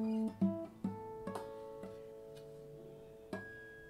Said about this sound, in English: I can use this to play what are called harmonics